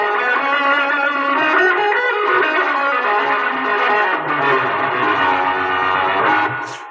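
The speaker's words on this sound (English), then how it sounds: "we can get some super heavy distortion here" An electric guitar runs through a multi-overdrive pedal set to heavy distortion, playing a thick, saturated sustained chord with a growling low end, loud and alone, fading at the very end.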